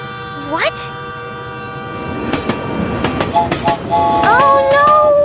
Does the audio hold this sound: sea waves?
no